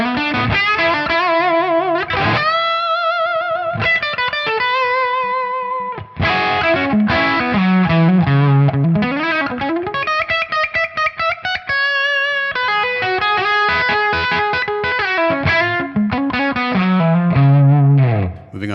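Electric guitar played through a Tonex pedal amp preset, a driven, effected tone ringing out in continuous chords and single-note runs, loud and alone with no voices.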